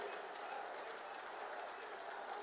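A large crowd applauds at Narendra Modi's public speech in Ghazipur, a dense, continuous roar of clapping from many hands that fills the whole moment at steady loudness.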